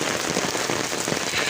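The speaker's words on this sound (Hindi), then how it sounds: "और वाह, बहुत ज़ोर की बारिश है।" Heavy rain pours onto garden plants, a dense, continuous close-up patter of drops hitting leaves, steady and loud for the whole short stretch with no voices.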